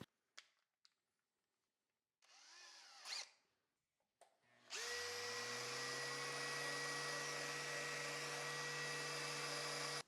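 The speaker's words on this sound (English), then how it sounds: "the easiest way to do that is just with a sander and a drill" A few faint knocks and a short rising whir precede a power drill spinning a wooden dowel against a sander to taper its end, settling into a loud, steady high-pitched whine that runs to the end.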